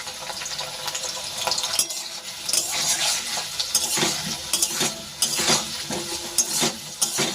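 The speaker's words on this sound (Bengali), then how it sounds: "এই সাইডেই জিরে আর গরম মশলা দিয়ে দিচ্ছি।" Cumin and garam masala fry in a pan, crackling and sizzling up close while a utensil scrapes and clinks against the pan in irregular bursts, with no talking.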